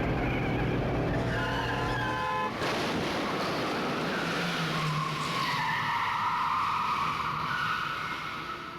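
Tires skid and screech as a car brakes hard in traffic during a Danganronpa video game cutscene, a loud sustained squeal sweeping over engine and road noise with no voices.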